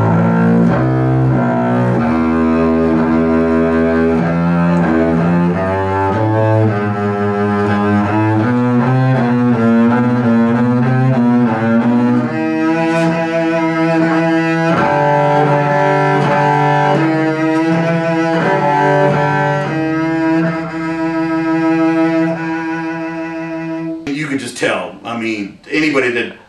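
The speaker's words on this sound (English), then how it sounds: "You can tell by the sound of this instrument, the depth and the resonance coming from these strings." Bowed acoustic string instrument fitted with D'Addario Helicore orchestral strings, playing a sequence of sustained, resonant low notes including a low C, loud and alone with a few sharper bow strokes toward the end.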